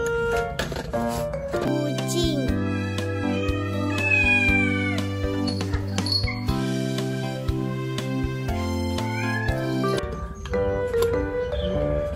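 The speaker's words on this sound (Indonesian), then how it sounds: "Ini adalah mainan kucing, teman-teman." A toy cat gives electronic meows over a tinkly synthesized tune, close and steady for about twelve seconds with no talking.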